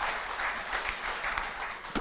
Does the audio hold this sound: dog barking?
no